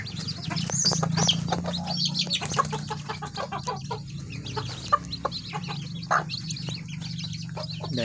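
Kukuak balenggek chickens cluck and peck while eating, with soft chirping and short clucks over a steady low hum, close by and moderately loud.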